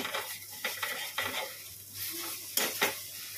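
Cabbage fries in a hot pan, sizzling steadily as a spatula scrapes and stirs in quick, irregular strokes, close and alone without talk.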